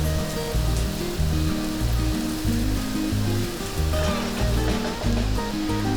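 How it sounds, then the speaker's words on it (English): Curry leaves fry with onion and spices in a pot for a Malaysian beef curry, a steady dense sizzle that stays loud and even throughout beneath soft background music. "add 35 to 40 curry leaves and fry it for about 2 minutes"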